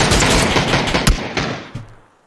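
Rapid gunfire from the video game PUBG crackles in a dense volley of loud shots, then a few separate bangs before the sound fades into silence.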